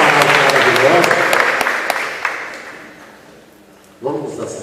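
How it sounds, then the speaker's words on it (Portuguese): Congregation in a church applauding after a scripture reading, the clapping loud at first and fading away, followed by a voice starting to speak. "Vamos aplaudir a palavra de Deus,"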